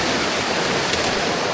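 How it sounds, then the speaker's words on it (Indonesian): A river rushes below an irrigation canal along a mountain race route near Semarang, giving a steady, dense wash of flowing water with no break and no voices. "Kita susur saluran irigasi, bawahnya sungai dong."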